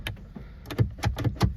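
The power door lock actuator of a 2005–2018 Nissan Frontier pickup, just replaced, fires in a quick series of sharp mechanical clicks and clunks, close and moderately loud.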